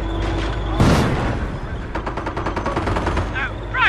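Rapid machine-gun bursts and single rifle shots crackle through a Company of Heroes battle, with a loud blast early on and dense rhythmic fire in the second half, mixed with battlefield noise and soldiers' voices.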